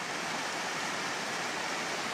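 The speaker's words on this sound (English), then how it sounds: "there is another little waterfall up here" A little waterfall on a hillside stream rushes in a steady, close, broadband hiss that continues unchanged throughout, with no voices.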